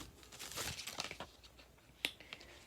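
A deck of tarot cards shuffled by hand: soft, papery riffling and rustling that fades, then one sharp tap of cards near the end. Quiet and close, with no voices.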